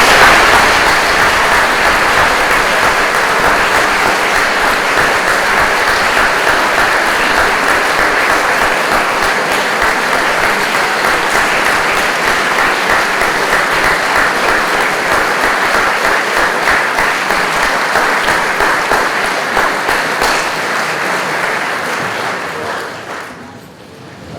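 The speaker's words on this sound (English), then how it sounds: "Will members of Class 6 please stand to receive our applause?" A hall audience gives sustained applause for new Class 6 students at the opening of fall term, loud dense clapping that holds steady, then fades and stops at the end.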